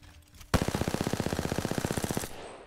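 Automatic rifle fire from the shooter game Apex Legends, Season 11: one rapid burst of roughly thirty evenly spaced shots lasting under two seconds, loud and close, then a short fading tail.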